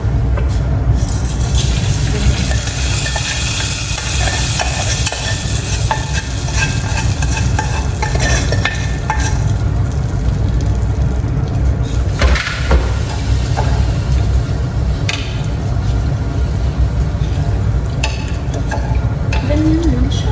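Cooked rice with vermicelli being stirred and mixed in a pan, a steady scraping and sizzling texture running continuously close by, with a few sharper clatters partway through and no talking.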